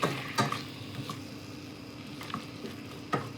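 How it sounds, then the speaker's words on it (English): Apples cooking down in a pan over medium-high heat, giving a soft steady sizzle with a few clinks of a utensil against the pan scattered through. "you want to cook down your apples till they're soft and they're syrupy"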